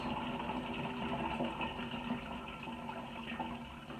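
Homemade onion broth is poured through a strainer, a steady, close rush of splashing liquid that runs without a break and without voices.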